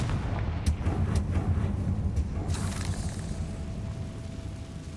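The Confringo explosive curse from the video game Hogwarts Legacy sets off a heavy, rumbling blast with a few crackling pops on top, filling the whole stretch with loud, low booming that slowly fades.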